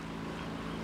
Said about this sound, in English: There's two little boats coming by.